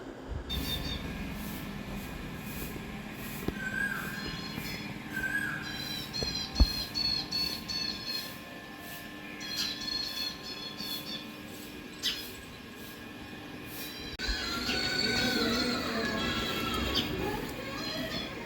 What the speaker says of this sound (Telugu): చిట్టి పక్షులు చూడండి ఎన్ని ఉన్నాయి చెట్టు మీద చాలా ఉన్నాయి